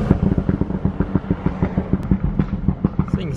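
A BMW 535 F10 with an aftermarket exhaust gives a burst of rapid, popping exhaust pulses, a loud, rhythmic crackle of repeated thumps over about three seconds with no talk.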